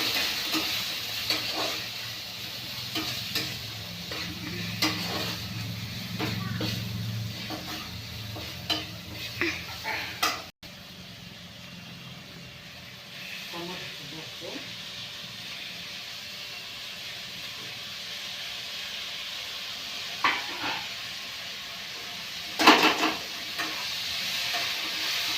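Matki sprouts being stirred in a hot pan, a continuous sizzle broken by repeated spatula scrapes and knocks, with one sharper clatter near the end.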